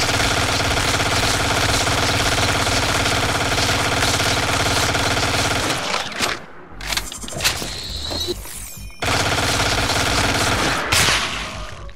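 A Gauss cannon firing at a hive in the video game Eden Star: dense, rapid mechanical firing with a heavy engine-like roar runs continuously, breaks into scattered bursts and clanks, then resumes at full intensity.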